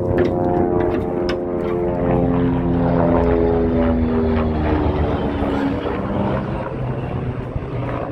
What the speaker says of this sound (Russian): Вертолет на 9 мая готовится,